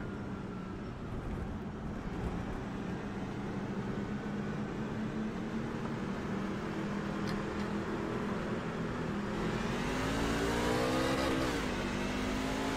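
A race car engine in iRacing at Circuit of the Americas drones steadily in a long, even roar and climbs in pitch as it accelerates near the end, loud and continuous with no talking over it.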